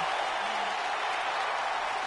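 A steady wash of wrestling-game crowd noise cheers and applauds for Edge, continuous and even in level from start to finish with no pauses.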